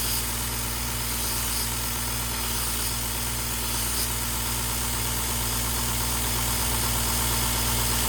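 A belt grinder running a worn 80-grit belt, never changed since first use, grinds the serrations of a steak knife, giving a loud, steady motor hum with a continuous abrasive hiss and no voices.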